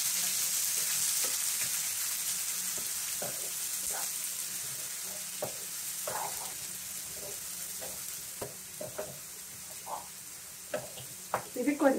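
Onions and garlic fry in oil for a raw turmeric curry, giving a constant soft sizzle up close, dotted with light stirring taps and scrapes that grow busier toward the end.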